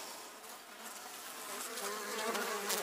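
Honey bees hum steadily inside a weak colony's hive in its first winter, a dense, close buzz that swells slightly louder toward the end, with no voices.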